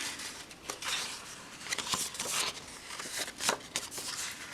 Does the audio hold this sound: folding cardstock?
yes